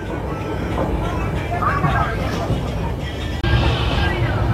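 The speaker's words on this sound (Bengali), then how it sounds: "আমাদের ট্রেন এখন ছেড়ে দিয়েছে একদম পারফেক্ট টাইমে" Passenger train pulling out of Kolkata station bound for Prayagraj, a loud continuous rumble and clatter of the carriages heard from inside, with people talking throughout.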